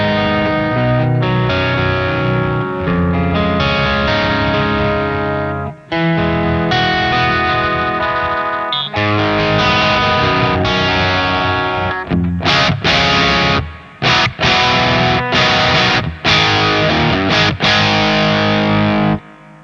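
An electric guitar played through a Revv G2 distortion pedal in blue mode, loud and heavily saturated, with sustained chords that give way to choppy, stopping riffs in the second half, heard alone with no voice.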